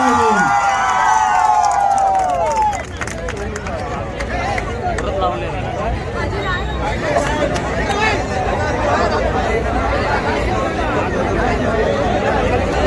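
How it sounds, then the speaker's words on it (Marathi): A crowd cheering, shouting and clapping at a Narkasur festival in Malvan, loud and dense throughout, with children's shouts and chatter mixed in and a voice speaking at the start. "टाळ्यांचा गजर करूया."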